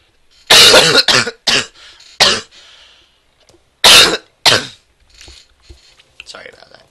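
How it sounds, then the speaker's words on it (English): Several harsh, loud coughs in quick bursts, a pause, then two more coughs, with faint throat sounds fading afterward. "Very sorry about that cough."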